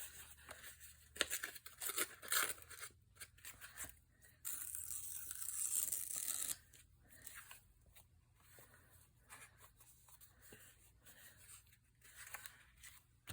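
Paper edges being trimmed for a lacey shabby-style handmade journal, giving irregular crisp snips and rustling with a louder, sustained tearing or cutting stretch in the middle, close and alone without talk.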